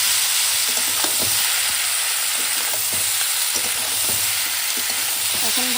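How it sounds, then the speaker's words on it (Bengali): Catla fish head stir-fried in a pan with raw tomatoes, ginger, garlic, cumin and chilli, giving a steady loud sizzle broken by repeated scraping and clinking from a spatula stirring, with no talking. "এখন ভালো করে কষাবো"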